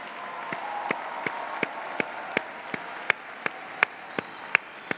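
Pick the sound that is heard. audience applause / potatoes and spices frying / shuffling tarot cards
audience applause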